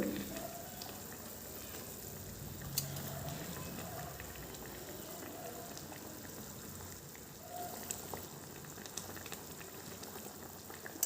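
Matar paneer curry boiling in a pot, a steady, continuous bubbling simmer with faint pops that holds at an even level throughout, with no talking.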